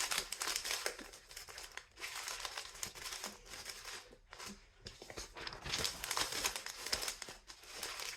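Paper is scrunched and crumpled by hand for an art project, a continuous close, loud crinkling with brief pauses and repeated crushing bursts.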